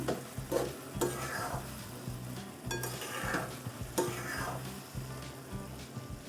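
Pumpkin vegetable curry is stirred in a pan, with a repeated scraping, sizzling stir that comes in several close strokes over a low background hiss, loud and near with no talking.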